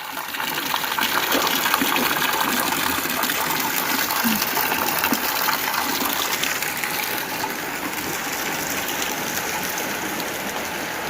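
Heavy rain pours steadily in a rural Thai setting on the way to pick up children from school, a dense, continuous rushing wash of water and downpour at close range with no pauses.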